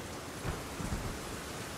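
Steady video game rain in Elden Ring hisses across the whole clip, with a couple of low rumbling swells partway through. No voices are heard.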